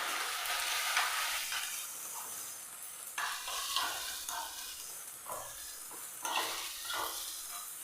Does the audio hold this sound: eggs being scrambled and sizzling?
yes